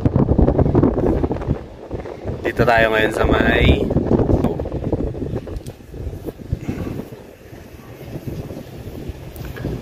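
Wind gusts on Mt. Cabuyao near Baguio City buffet the microphone in loud rumbling bursts while a person talks over it.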